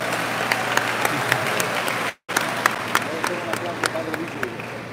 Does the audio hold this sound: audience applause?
yes